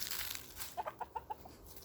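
Chickens cluck in a quick run of six short notes, fairly faint and distant over a soft outdoor background.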